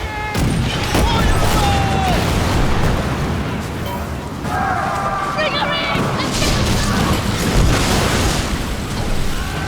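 Booming ship cannon blasts and explosions from a naval battle in Skull and Bones, dense and loud, with a voice talking over the barrage.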